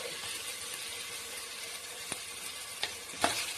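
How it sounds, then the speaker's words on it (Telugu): Ginger garlic paste frying in a pan for a village-style boti curry, a soft, steady sizzle with a few faint stirring taps, heard close without any talk. "అల్లం వెల్లుల్లి పేస్ట్ కూడా పచ్చి వాసన పోయేంత వరకు వేపుకుందామండి."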